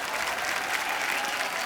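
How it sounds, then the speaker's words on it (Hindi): Dense, steady applause from a sizable TV comedy show studio audience, loud and continuous throughout with no pauses. "उसके लिए पहले तो जोरदार तालियां।"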